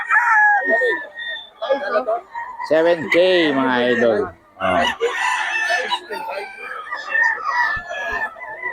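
Several roosters crow loudly in turn, with drawn-out calls and some clucking, at a poultry sellers' gathering in Bocaue, while someone speaks intermittently between them.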